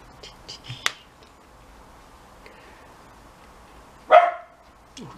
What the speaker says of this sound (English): Oh, Daisy, you find something to bark at all the time